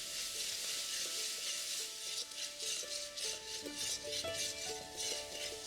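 Ginger, garlic and green chili paste frying with onions for a Bengali jackfruit kalia, a steady close sizzle with scattered stirring clinks and scrapes throughout.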